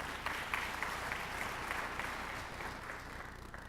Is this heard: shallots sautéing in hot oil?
no